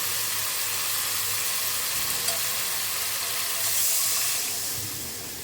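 Water poured into spice paste frying in oil in a pan for a fish curry sets off a loud, close, continuous sizzle and bubbling that swells briefly and then gradually fades.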